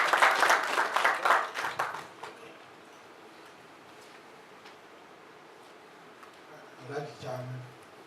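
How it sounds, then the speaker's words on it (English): Brief burst of audience applause at the launch event of a mental health NGO as a speaker comes on stage, loud clapping that fades after about two seconds, leaving a quiet room before faint voices at the end. "Round of applause as he comes on stage."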